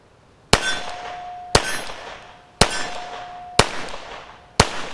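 Five evenly spaced sharp clangs ring out as shots from a Colt 1903 pistol strike a metal target, each hit leaving a brief bright metallic ring that fades before the next.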